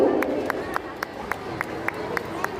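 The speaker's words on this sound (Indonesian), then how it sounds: "berikan tepuk tangan yang meriah untuk adik-adik kita berlima yang sudah berani maju" Rhythmic clapping from a school audience for five young students at an arts performance, evenly spaced claps over a murmur of crowd chatter.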